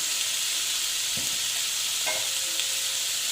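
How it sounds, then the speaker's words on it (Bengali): Raw mango chutney being stirred in a pan with salt added, a steady hiss of frying with a few distinct scraping strokes of the spoon, close and alone with no talking. "তারপরে দিলাম একটু নুন দিয়ে একটু আবার নেড়ে চেড়ে নিচ্ছি"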